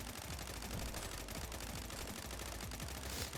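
Dense, continuous automatic gunfire from the video game A Horde Wants To Kill You, a steady rapid rattle of shots filling the whole stretch with no talk over it.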